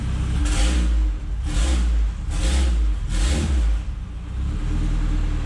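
A Toyota MR2 fitted with a Honda K20 engine revs four times in a row, each throttle blip swelling loudly and then falling back toward idle, close and with no talk over it.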